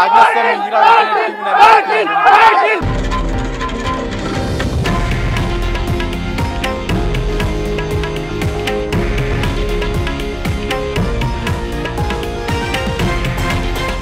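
A large crowd of Maratha people at CSMT station, loud chanting and rhythmic shouts for about three seconds, then abruptly replaced by continuous music.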